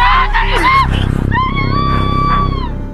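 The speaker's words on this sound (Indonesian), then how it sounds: "telepon itu diakhiri dengan suara jeritan ibunya yang sedang diserang oleh zombie" A woman screams in a zombie film scene, being attacked by a zombie. The screams are loud, shrill and close, with rising and falling wails over about three seconds.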